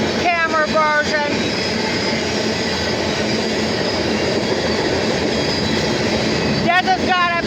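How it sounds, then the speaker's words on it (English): A CSX mixed manifest freight train rolls steadily past near Beaver Falls, Pennsylvania, a loud continuous rumble of cars and wheels with rhythmic clacking and squealing wheel tones near the start and end. "Got another train, another camera version."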